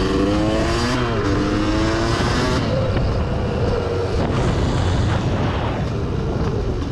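A 1990 Kawasaki KDX200 two-stroke dirt bike engine, an old barn find, revs loudly and up close with rising and falling crackly pitch, then drops into a rough, raspy idle as the throttle eases off.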